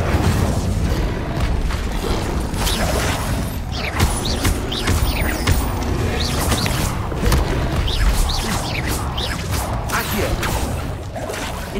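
Incendio fire spells cast again and again in Hogwarts Legacy, a series of whooshing bursts and booming impacts one after another over a dense, noisy game mix, with a voice calling out between them.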